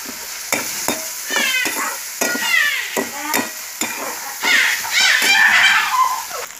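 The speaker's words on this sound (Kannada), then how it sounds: "ಕೆಂಪಾಗಂಗ ಹುರಿಬೇಕು ಉಳ್ಳಿಗಡಿ, ಟೊಮೆಟೊ ಒಂದು ಸ್ವಲ್ಪ ಚಂದಾಗಿ" Onion and tomato frying in a pan, a steady sizzle with stirring scrapes, close, while a cat meows and children's voices chirp in the background.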